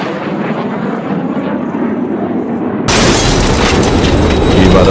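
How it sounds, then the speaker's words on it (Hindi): Fighter jets roar overhead, a steady rushing drone that suddenly swells into a loud, broad blast of jet noise as one passes close, continuing at full volume to the end. "अब उनको इंटरसेप्ट करने के लिए हमारे इंडियन फाइटर जेट्स आ रहे हैं"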